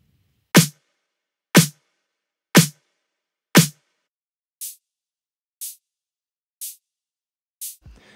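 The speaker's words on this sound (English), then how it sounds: "So here I have a snare and a clap going at the same time." Drum hits from a redrum edit: four loud, evenly spaced snare-and-clap strikes with full-bodied thump, then four thinner white noise stabs at the same one-per-second pace, all dry and close with no talking.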